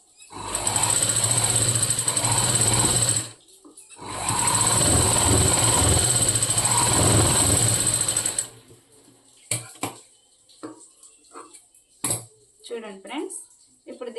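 A sewing machine runs in two sustained bursts of steady, whirring stitching on a boat-neck blouse, loud and close, separated by a brief pause, then stops; afterward there are a few clicks and handling noises while someone speaks.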